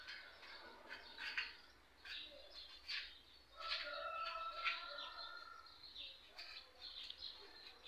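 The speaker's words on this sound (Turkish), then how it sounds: "o kadar güzel kuş sesleri var ki" Several birds sing and chirp in a garden, a busy chorus of short calls and trills that rises and falls over steady low background noise, moderately near.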